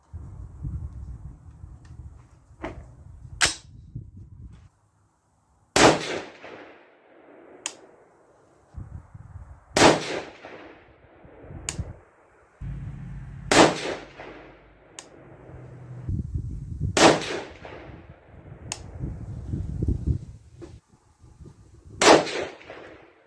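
Six sharp, loud rifle shots from a 6.5 Grendel lever-action firing 123-grain ELD-M rounds, spaced a few seconds apart at a shooting bench, each crack followed by a brief rumbling echo.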